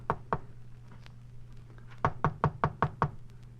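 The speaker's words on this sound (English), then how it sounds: "I knocked." Knocking on an apartment door as a radio drama effect: two close knocks, a pause, then six steady, evenly spaced raps over a low, constant hum.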